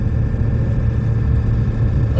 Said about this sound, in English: Warming the truck up.